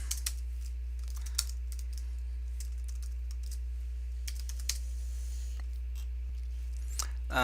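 Code typed on a computer keyboard in quick bursts of close, crisp key clicks over a steady low hum.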